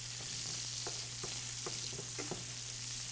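Bacon sizzles steadily in a pan on the stove for quiche Lorraine, a constant fry with a few soft clinks and pops scattered through it and no voices.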